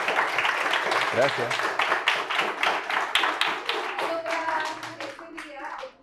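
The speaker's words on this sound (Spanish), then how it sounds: "le voy a pedir un aplauso" Applause from the audience at a talk on fly research, with hands clapping through the whole stretch under speech and a brief spoken thanks near the end.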